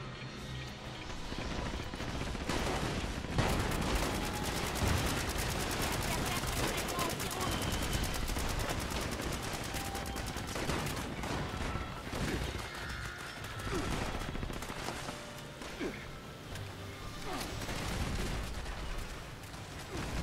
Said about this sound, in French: j'essaie de mettre une balle dans tous les ennemis